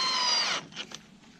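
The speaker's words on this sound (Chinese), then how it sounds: "其实打螺丝要打很久的。" A power drill driving a screw into wooden deck boards beside a garden fish pond, a loud whirring burst of about half a second that cuts off, followed by a few faint clicks and knocks, close up.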